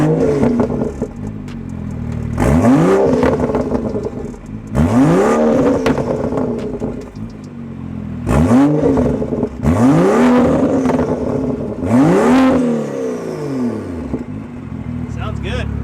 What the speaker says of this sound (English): I forgot how loud those intakes were